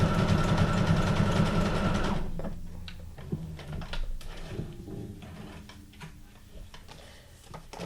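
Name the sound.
sewing machine stitching signatures for a mini junk journal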